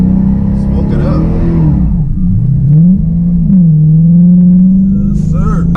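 A 6.4-litre HEMI V8 in a Chrysler 300C revving hard during a burnout, a loud, close, sustained engine roar that rises and dips in pitch as the throttle is worked.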